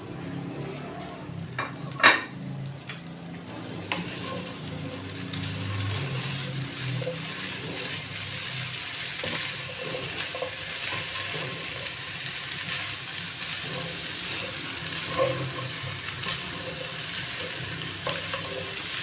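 Vegetables and tikka meat shallow fry in a pan with a soft, continuous sizzle, broken by occasional scraping and clinking of a utensil stirring, including one louder knock near the start.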